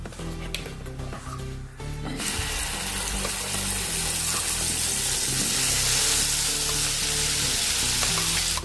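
Ground masala from a mixer jar tipped into a hot pan for methi sabzi, giving a loud steady sizzle and fry that swells after a brief quieter start and holds with no voices.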